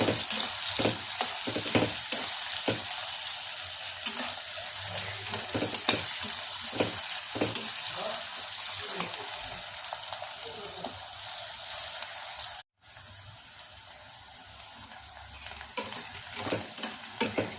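Onions fry and get stirred in a pan as a base for hotel-style mushroom biryani. A steady sizzle runs throughout, with repeated scraping strokes of the spoon and a brief cut near the end. There is no talking.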